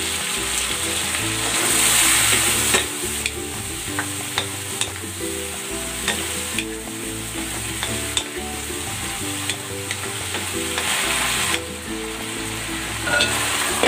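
Chicken pieces frying in a pan as the soaking marinade is poured in, a loud steady sizzle with occasional clinks and stirring scrapes throughout.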